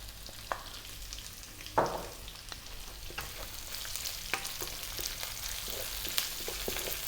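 Chopped onion sautéing in a hot pan with toasted garlic and cooked ginger for a Filipino ground pork coconut dish, a steady close sizzle with occasional sharp scrapes and stirring clicks.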